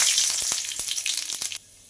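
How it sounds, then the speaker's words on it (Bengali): Five-spice mix, two dried red chillies and two bay leaves sizzle in hot mustard oil, a steady close crackle broken by a few sharper pops, then cutting off abruptly near the end. "এবার এই তেলের মধ্যে ফোড়ন হিসেবে দিয়ে দেব 1/2 চামচ 5 ফোড়ন, 2টো শুকনো লঙ্কা ও 2টো তেজপাতা।"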